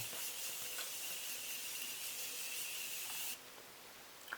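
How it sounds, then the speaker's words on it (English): A steady, fine mist of makeup setting spray hisses continuously for a few seconds, then cuts off, leaving quiet room noise. "Setting spray to lock it in, snatch it up, and make everything just look a little bit more glossy"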